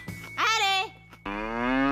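A cartoon cow moos twice, a rising-and-falling bellow followed after a short pause by a longer, steadier, louder moo, close and alone with no talk.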